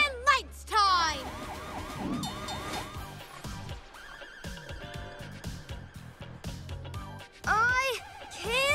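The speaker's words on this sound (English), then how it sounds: "Siren and lights time." A cartoon vehicle's siren wails in rising and falling sweeps amid animated sound effects and music, loud in bursts at the start and end, with character voices talking between them.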